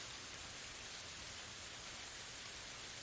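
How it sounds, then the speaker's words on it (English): Steady rainfall, a dense even hiss of drops on surfaces, constant and moderately loud throughout with no voices. "matching the calm rhythm of the rain"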